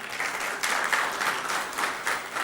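Audience applause at a presentation on agricultural financing by the Banque agricole, steady clapping from a crowd lasting a couple of seconds, moderately distant with no speech over it.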